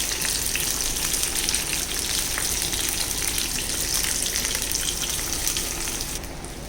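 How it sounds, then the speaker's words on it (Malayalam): Large prawns fry in hot oil in a clay pot, giving a loud, steady, dense sizzle that runs unbroken and alone throughout, easing slightly at the very end. "ചെമ്മീനെല്ലാം ചട്ടിയിലേക്ക് ഇട്ടിട്ടുണ്ട്. ഇനി നമുക്കിതിൻ്റെ രണ്ട് സൈഡും ഒന്ന് മുരിച്ച് വേവിച്ചെടുക്കാം."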